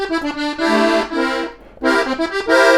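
Accordion bass buttons and chords sound while the bellows draw air in and out, giving sustained reedy bass tones in swelling phrases separated by short gaps, loud and near with no talk.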